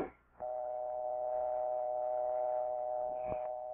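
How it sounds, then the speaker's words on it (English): A steady telephone dial tone hums continuously after a click, with another brief click near the end, on a circa-1950 Bell System phone. "Always listen for the dial tone."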